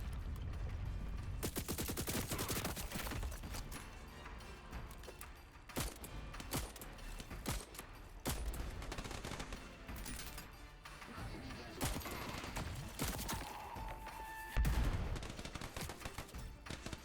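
Guns blaze in Void Train, dense rapid bursts and sustained automatic fire rattling almost without pause, loud and continuous throughout.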